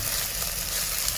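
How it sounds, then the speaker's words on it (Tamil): Onions sauté in a pan for a crab gravy, with a steady, dense sizzle and hiss that holds at an even level. "வெங்காயம் சேர்த்துக்கணும். வெங்காயத்தை நல்லா வதக்கிக்கணும்."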